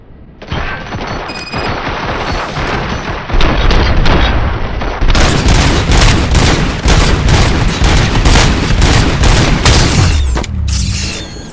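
Sustained heavy gunfire in RoboCop: Rogue City, rapid loud bursts of shots and booms firing almost continuously for about ten seconds before cutting off.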